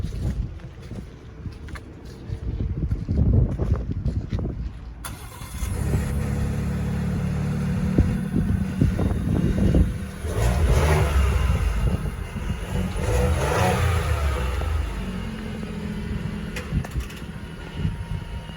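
A 2023 Ford F-150 FX4 with a 3.5-liter twin-turbo V6 cold-starts after a quiet stretch, then settles into a steady, loud idle with a brief rev, close to the truck with no talk.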